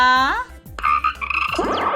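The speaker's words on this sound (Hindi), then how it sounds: "और मेंढक को तो देखो, सही जगह कूद के कितना खुश है।" A frog in a children's educational television program lets out loud, close, throaty croaks with rising and falling tones, followed by playful sweeping musical sounds and no speech.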